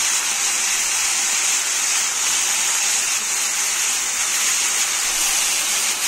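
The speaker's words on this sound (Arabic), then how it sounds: "كده الزيت سخن زي ما انتم شايفين، هننزل باللحمه بسم الله" Pieces of meat hit hot oil in a pan and sizzle with a loud, continuous, close hiss that holds steady without talk.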